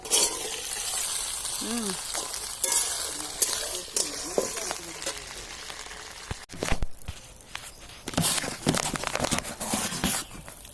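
Okra dropped into a hot pan and frying, a steady close sizzle with irregular stirring clatter and scraping, fairly loud, with a voice talking over parts of it.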